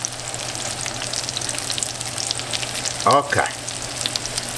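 Shrimp frying in a pan for shrimp parmigiana, a steady close sizzle running throughout, with a brief louder burst of movement midway and a single short spoken word.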